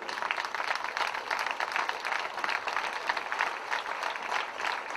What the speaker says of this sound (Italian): accogliamo con un grande applauso